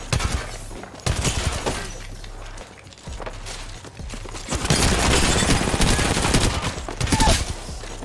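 Bursts of rapid gunfire in the Apex Legends game, dense volleys of shots cracking close and loud with brief pauses between, mid-round with shields recharging.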